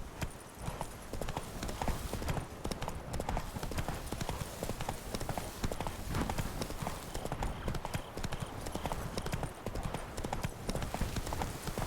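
Horse Roach's hooves clip-clop in a steady trotting rhythm, close and continuous, in The Witcher 3, with a dense game soundscape of ambient noise underneath throughout.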